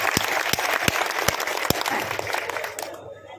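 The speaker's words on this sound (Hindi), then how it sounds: "एक बार जोर से ताली बजा देंगे।" Applause from a crowd at a political election office opening, dense clapping punctuated by several sharp, louder individual claps near the microphone, fading out abruptly at the end.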